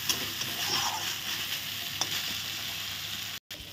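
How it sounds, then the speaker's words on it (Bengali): Prawns for prawn malai sizzle in hot oil as they are stirred and cooked down, giving a continuous close crackle and hiss. Scraping stir sounds come through, and there is a brief gap near the end. "এটা একটু কষানো হবে।"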